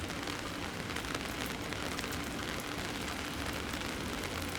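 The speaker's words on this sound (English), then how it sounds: "Now it's raining and leaking in 3 spots." Steady, dense hiss of rain pattering on a travel trailer, continuous and fairly loud throughout with no voices.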